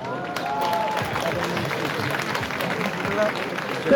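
Crowd at a cannabis liberation march in Poland claps and cheers outdoors, a continuous busy applause with scattered shouts and whistles mixed in.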